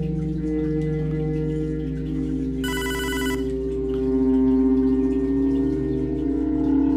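A telephone rings in the video game Hotline Miami 2, a short burst of electronic ringing over a loud, droning synth soundtrack.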